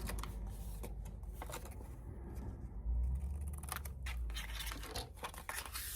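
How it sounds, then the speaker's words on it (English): Scissors snip through keepsake folio material in a quiet room, a run of short crisp cuts and rustling close at hand with no talking. "So I'm going to cut this down so hopefully you won't see it."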